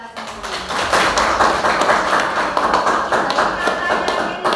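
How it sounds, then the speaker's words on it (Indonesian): Loud, close clapping from a small group at a teacher training session in a classroom, a sharp irregular burst of claps that rises quickly and carries on for several seconds. "Sip, tepuk tangan untuk kita semua."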